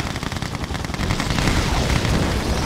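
Rapid gunfire from a real-time strategy battle in Red Alert 2: Yuri's Revenge, a dense, continuous rattle of shots and blasts that thickens and grows louder partway through.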